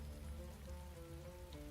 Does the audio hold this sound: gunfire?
no